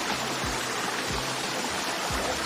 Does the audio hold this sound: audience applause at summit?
no